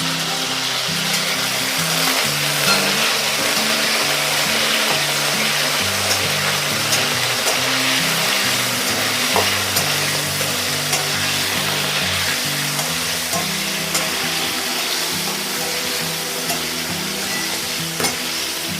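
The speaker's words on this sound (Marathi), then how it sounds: "मी हा वाटाणा चांगला तेलात परतून घेणार आहे" Green peas fry in oil in a pan for poha, a dense continuous sizzle and crackle close by, with stirring scrapes and spattering over a steady low hum, no talk.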